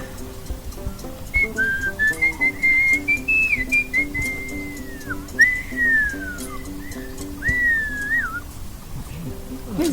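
Melodic human whistling with rising and falling calls repeated several times, personal whistled name-calls in the village of Wahkhen, India, fairly close, over a steady background hum and faint voices.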